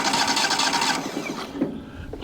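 The gas engine of a sawmill used for milling large white pine turns over in a rapid, mechanical chatter for about a second, then cuts off, leaving faint clunks and quiet.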